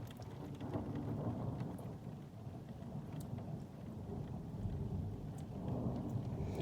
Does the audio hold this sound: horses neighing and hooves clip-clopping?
no